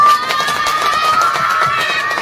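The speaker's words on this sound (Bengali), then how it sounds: "একটু হাততালি, একটু জোরে হাততালি দেওয়া হতে পারে" An audience at a birthday magic show claps and cheers, a dense, steady wash of crowd noise from many hands lasting the whole moment, fairly loud and close.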